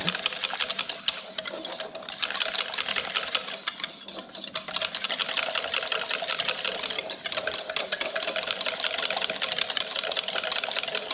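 Whisk beating a coconut cream mixture in a bowl, a rapid steady rattling whir that runs continuously and fairly close.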